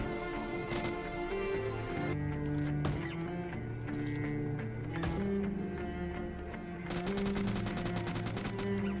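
Gunfire in PUBG Mobile Lite while knocking down and finishing enemies, with bursts of shots and impacts over a steady game soundtrack with tonal music throughout, and a dense rapid-fire passage near the end.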